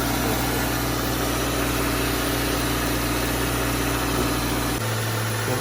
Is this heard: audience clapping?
no